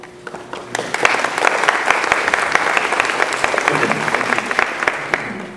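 An audience at a movie premiere claps briskly in sustained, dense applause, loud and close, with a few sharper individual claps standing out across the whole stretch.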